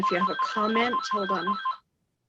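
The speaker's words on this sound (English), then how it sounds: "Sorry for the other phone ringing." A telephone rings during a general board meeting, its repeating electronic tone sounding under a voice speaking over it before both stop abruptly.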